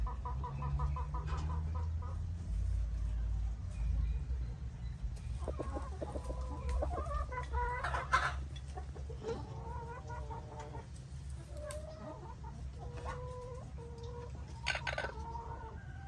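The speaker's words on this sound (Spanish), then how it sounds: "Acá tenemos el gallo, no deja sus gallinas solas." Laying hens and a rooster on a farm cluck and call in a steady scatter of short, mid-distance sounds over a low background rumble, with no one talking.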